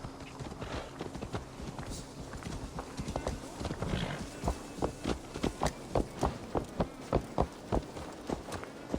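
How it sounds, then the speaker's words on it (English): Steady clip-clop of horse hooves in the video game Assassin's Creed Valhalla, a regular rhythm of sharp knocks growing clearer in the second half, over a low ambient background. "Let's return the horse."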